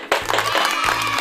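Fourth-grade schoolchildren in a science class applaud a classmate, a dense burst of clapping that fills the short moment at close range, with a low hum underneath.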